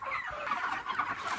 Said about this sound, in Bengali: মুরগি কত সুন্দর হয়েছে দেখুন।